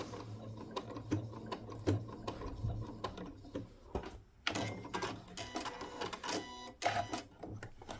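A sewing machine stitches a flat fabric teddy bear, running in short bursts of fast rhythmic mechanical clatter with brief pauses, close and fairly quiet, without talk.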